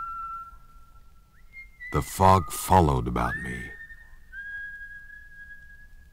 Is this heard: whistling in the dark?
yes